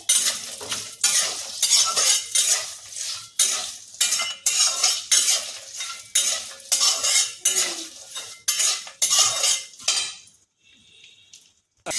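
Cashews fry in a pan with salt for lemon rice, a spoon scraping and clinking against the metal in quick repeated stirs over a soft sizzle, stopping near the end.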